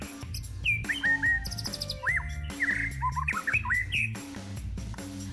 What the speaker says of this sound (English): This is the white-rump shama, and they sing a really beautiful tune during courtship.